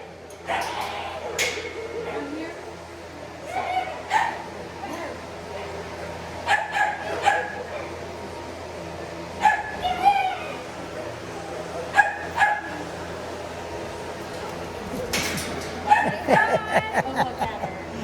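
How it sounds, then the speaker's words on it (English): A farm dog barks and yips in scattered short bursts, some whimpering between, fairly close, while people talk and call out over the barking. "She'll definitely bark."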